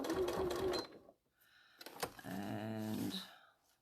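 A sewing machine stitches an envelope zipper in two loud, steady runs of motor whir, the second with a brief pause and clunk between them, then a short reverse stitch at the end.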